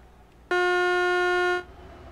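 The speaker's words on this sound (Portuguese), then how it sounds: "Essas buzinas tinha que dar uma melhorada" Truck horn in Euro Truck Simulator 2, a single steady tonal blast lasting about a second, loud and clear over faint engine background.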